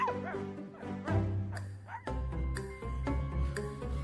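A cartoon dog barks, yips and whimpers in a children's storytelling sound effect, with bouncy playful yelps over a musical score, close and clear with no talk.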